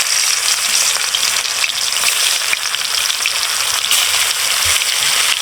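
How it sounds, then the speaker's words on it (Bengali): Pieces of tuna fish fry in hot oil in a wok, giving a loud, steady, dense sizzle that carries on unbroken with no voices. "কড়াই গরম হয়ে গেছে তেলও গরম হয়ে গেছে এখন আমি মাছগুলো দিয়ে দেব"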